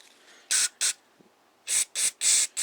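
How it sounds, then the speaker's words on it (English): Carburetor cleaner sprays through the small passages of a Tecumseh go-kart carburetor in five sharp hissing bursts, two short ones, a pause, then three longer ones, loud and close against near silence. "you want to spray through it"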